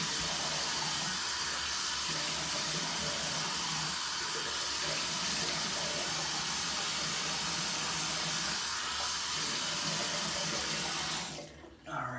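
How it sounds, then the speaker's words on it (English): A bathroom tap runs continuously at a steady, close rush of water filling a sink for face washing, then cuts off abruptly near the end; no voices. "let's go ahead and splash some water on my face"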